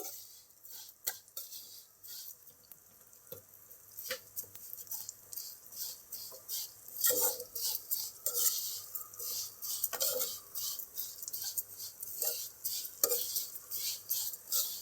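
Vermicelli roasts in ghee in a pan over low heat, stirred with a spoon that scrapes and taps in irregular bursts. The faint frying patter underneath grows busier toward the end, heard close with no talking.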